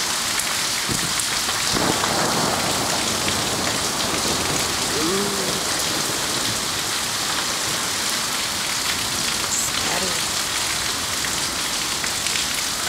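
Heavy rain pours steadily in a dense, hissing wash during a Missouri thunderstorm, with a low rumble of thunder rolling in the background.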